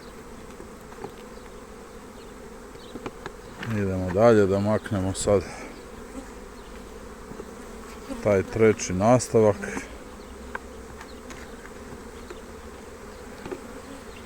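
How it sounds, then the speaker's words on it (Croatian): Honeybees at an open hive during a spring inspection hum in a steady drone throughout, and someone speaks briefly twice over the buzzing. "Pčele stvarno lijepo zuje."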